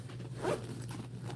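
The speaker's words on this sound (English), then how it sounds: "And then I'm going to zip up these pretty little zippers." A short zip of small zippers being closed on a handmade bag, one quick close rasp peaking in the middle of the brief moment, with no one talking.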